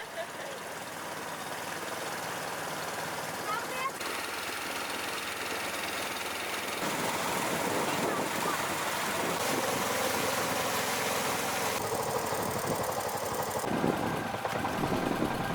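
A boat engine runs steadily on the way to Koh Sneng near Koh Han island in Cambodia, a continuous mid-pitched drone with a faint knock. The sound grows fuller and busier partway through.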